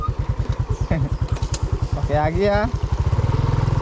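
A two-year-old motorcycle idles and putters close by on a rough, potholed rural road, its rapid regular engine pulses running throughout, briefly under a man's speech and a short call from a small carabao (water buffalo) midway.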